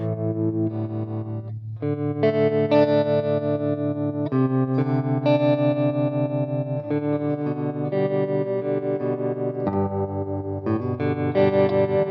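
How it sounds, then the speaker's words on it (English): Electric guitar through a Vox Cambridge 50 amp with a pulsing, wavering tremolo effect, playing sustained chords and notes steadily and loudly with no voices. "The tremolo on here does sound great."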